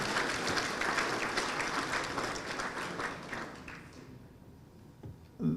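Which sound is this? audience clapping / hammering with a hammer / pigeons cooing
audience clapping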